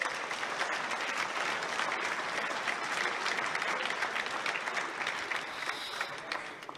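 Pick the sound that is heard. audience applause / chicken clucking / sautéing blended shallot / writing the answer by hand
audience applause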